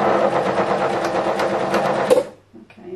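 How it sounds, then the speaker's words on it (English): Sewing machine running steadily as it stitches a rice-filled heat pad, a dense continuous whir that cuts off abruptly near the end, followed by a few faint clicks. "Okay, I'm definitely sewing on rice."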